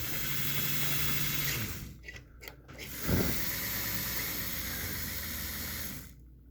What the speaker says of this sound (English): So we're boosting power to the motor,